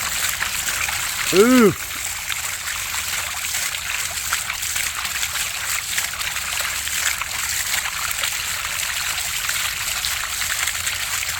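Dirty water gushes steadily from a pipe pulled from a 150-foot deep well, a continuous splashing rush heard close up, with a voice exclaiming briefly near the start.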